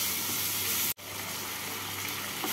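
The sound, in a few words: prawns frying in oil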